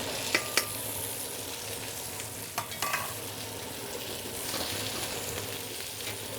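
Scrambled egg fries in a pan for pad see ew, a soft steady sizzle with scraping stirs and a few sharp utensil clinks against the pan, no talking.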